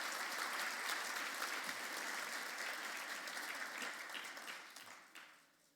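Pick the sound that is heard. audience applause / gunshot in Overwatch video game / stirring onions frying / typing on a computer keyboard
audience applause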